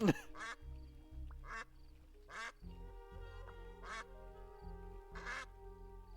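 Repeated button-triggered duck quacks in the Duck Detective video game, five bright, punchy calls at irregular intervals over looping background music.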